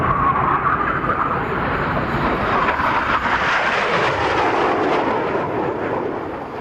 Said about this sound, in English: let's watch now then as that smoke colour changes for the synchro pair from our left and right as they approach the first opposition manoeuvre